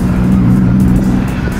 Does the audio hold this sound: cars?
yes